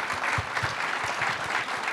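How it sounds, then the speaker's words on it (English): An audience claps for an author at a book talk, moderate applause with individual claps audible in a loose, uneven rhythm, fairly close and sustained without voices. "Let's give John a round of applause."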